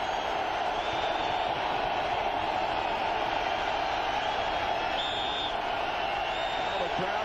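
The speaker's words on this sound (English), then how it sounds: "Well, the crowd is alive as we start quarter number 4." A football stadium crowd roars steadily at the 1993 Lions at Vikings game at the start of the fourth quarter. The distant, continuous wash of cheering holds at an even level throughout.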